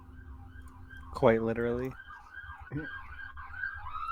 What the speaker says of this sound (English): you hear a siren that you know and associate immediately with the city watch